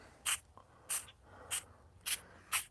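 Five short, evenly spaced bursts of spray paint hiss onto a metal part being given a faux cast-aluminum finish, each close and crisp, with quiet gaps between them.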